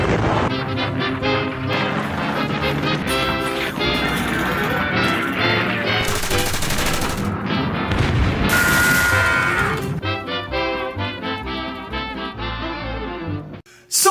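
Dense battle noise from an animated Stalingrad war scene, booms, crashes and rapid gunfire layered over a busy soundtrack, loud and continuous, ending with a sudden sharp hit.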